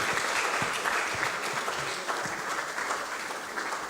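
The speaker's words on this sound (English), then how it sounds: "So singularly and jointly, let's give him a round of applause" Conference audience applauding steadily for a professor at an academia-industry research innovation conference, a dense wash of many hands clapping throughout at moderate loudness, with no talk.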